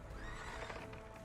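A horse in a medieval video game whinnies loudly, a single drawn-out neigh with hoof clatter beneath it, close and continuous throughout the short moment.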